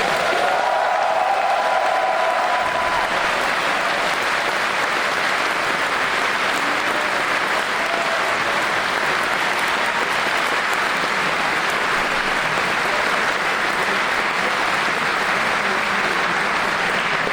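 Convention crowd at a pony fan gathering (GalaCon 2015) bursts into sustained applause with scattered cheers and whoops, a dense, loud wash of clapping that carries steadily from start to finish without talk.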